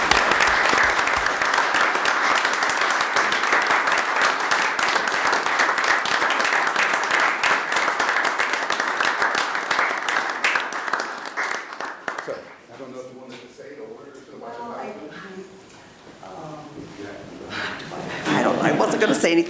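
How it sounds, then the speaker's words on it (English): Dense, sustained applause from an audience at a township board meeting rolls on for about twelve seconds, then thins into scattered claps and murmuring before swelling again. "if you would please give a round of applause"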